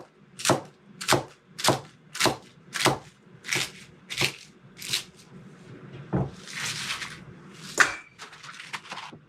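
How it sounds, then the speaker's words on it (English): A knife chops through fresh cabbage in a steady run of about a dozen crisp, close strikes against a board, followed by looser rustling and shuffling of the cut leaves. "will just start cutting this up. This is nice, fresh cabbage."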